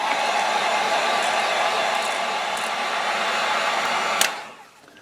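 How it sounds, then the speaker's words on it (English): A heat gun blows steadily while drying a fishing lure, a loud close continuous whoosh that runs unbroken before switching off and winding down. "let me get the heat gun. We'll dry this off so we can take the wrap off."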